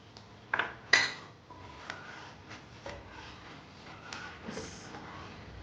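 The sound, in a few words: sugar being added to basundi in a cooking pot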